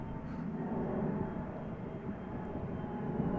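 An Airbus A320neo jet at Amsterdam Schiphol Airport gives a steady, broad engine roar that holds at an even loudness throughout, with no talking.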